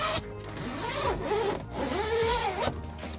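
Zippers on the pop-up roof of a Nissan Elgrand are pulled open in a few quick, close, raspy runs, with short pauses between strokes.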